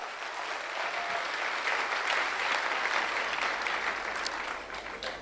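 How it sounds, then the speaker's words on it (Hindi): Loud, sustained clapping fills a hall as the crowd applauds the company's life sponsors, an even, dense wash of hands lasting several seconds with no talking over it. "एक बार जोरदार ताली बजाए सभी लाइफ स्पॉन्सर के लिए।"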